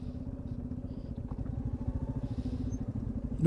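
A motorcycle engine runs steadily with a low, rhythmic chugging throughout, ending in a brief louder burst, parked at Baba Mandir near Zuluk on the snowy, icy Silk Route.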